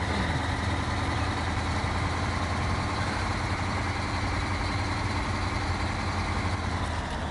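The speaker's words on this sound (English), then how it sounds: "just hear that truck just ticking over" A heavy truck engine idles in the Snowrunner video game, a steady, close, rumbling tick-over that holds constant with no talking.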